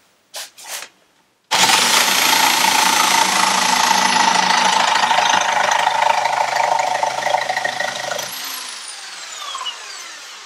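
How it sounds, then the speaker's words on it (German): A jigsaw cuts through boards, starting after a couple of short bumps and running as a loud, steady buzzing rattle for several seconds before winding down, with no talking. "Wir nehmen da immer so eine Stichsäge und mit der sägen wir die Bretter auseinander"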